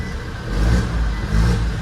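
Revving from a 2021 Honda City 1.0 Turbo SV, the close engine swelling louder in two pulses over a steady mid-pitched drone.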